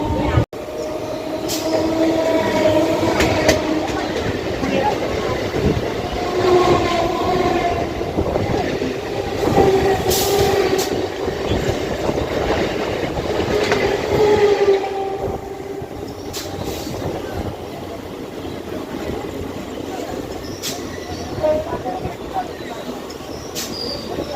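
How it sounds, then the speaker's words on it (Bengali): A local train on the Sonarpur–Sealdah line runs steadily near Baghajatin, with a continuous rumble and rattling of the carriages that eases after about fifteen seconds. Brief horn-like tones and scattered voices sound over it. "ট্রেন এখন আমাদের চলে এলো আমাদের বাঘাযতীনে"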